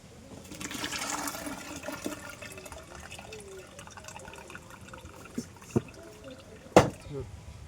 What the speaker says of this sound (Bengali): ফুটে উঠেছে, এবারে ঢেলে নেব।